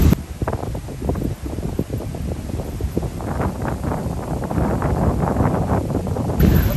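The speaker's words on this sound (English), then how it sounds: "but it still is really windy" Strong wind blows outdoors after rain on Koh Phangan, Thailand, roaring and rumbling steadily against the microphone in close, rustling gusts.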